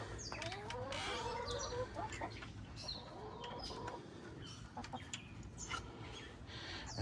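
Hens and chickens cluck steadily on a farmstead, several birds overlapping at close range against a constant outdoor background, with no talking.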